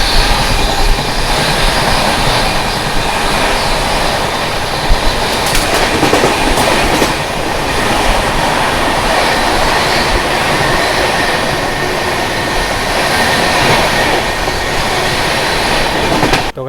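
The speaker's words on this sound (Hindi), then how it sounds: "तो खैर अच्छे खासे स्पीड में अपनी ट्रेन स्किप कर रही है" Inside a general compartment of an Indian Duronto Express train at speed, loud continuous rumble with rhythmic wheel clatter over rail joints and occasional squeal, no talking.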